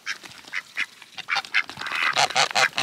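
Ducks quack repeatedly at a homestead pond, a close, lively series of nasal calls that grows busier and overlapping toward the end.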